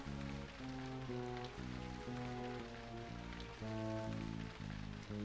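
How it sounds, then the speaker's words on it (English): Steady rain falls in the video game Scooby Doo: Night of 100 Frights, a constant hiss of drops under a looping, tonal background music bed, with no voices. "The rain will likely just stop here."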